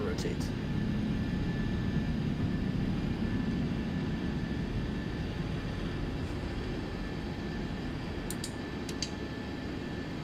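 Airliner engines roar during takeoff in Microsoft Flight Simulator 2024, a dense, steady low rumble with a faint whine that holds at an even level, with a few soft clicks and talk over it.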